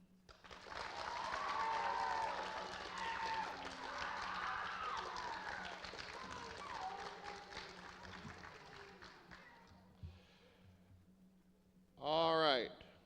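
Audience at a school's eighth-grade moving-up ceremony applauding loudly, a dense swell of clapping that gradually fades, followed by a brief burst of sound near the end.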